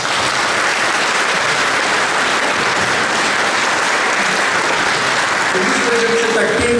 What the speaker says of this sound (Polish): że duże oklaski się należą.